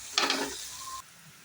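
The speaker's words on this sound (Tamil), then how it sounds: "ஓகேங்க, வெங்காயம் நல்லா வதங்கிடுச்சு" Onions and green chillies frying in a pan for chicken gravy: a short burst of hissing sizzle that stops abruptly, leaving a faint low hum.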